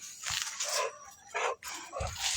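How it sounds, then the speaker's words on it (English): A neighbor's dog lets out several short, faint barks and yelps in an uneven rhythm against a quiet outdoor background. "that's my neighbor's dog"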